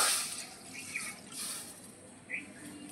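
Water pours and splashes into a wok set on a stove for steaming palm-fruit sweets, a short, close liquid rush with a few dripping splashes.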